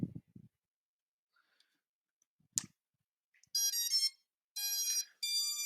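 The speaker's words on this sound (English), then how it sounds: "we can see this sound when the ESC makes it. That means it was connected properly." Drone motor ESCs beep after the battery is connected: a few faint clicks and a short handling thud, then a series of loud, close, steady electronic tones in three bursts, with no talk.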